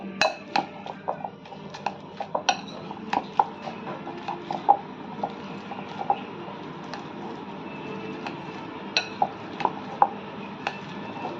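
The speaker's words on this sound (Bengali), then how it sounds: "আমি এবার কাঁচকলাগুলোকে ম্যাশ করে নেব ভালো করে।" Green plantains being mashed in a bowl for a vegetarian mock-fish dish: irregular soft clicks and knocks of a utensil against the dish, fairly quiet and close, with no talking.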